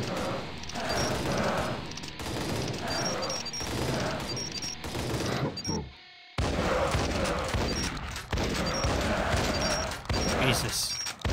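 Rapid gunfire against zombies in the Arcade Paradise game, dense, continuous volleys of shots with booms and clanks, briefly cut off by a short silence before the barrage resumes; a voice talks over it.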